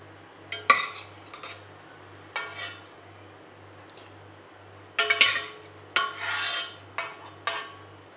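Boiled potatoes and peas mashed in a metal vessel give intermittent scraping, clinking strokes in short bursts, fairly close, over a faint steady pulsing hum.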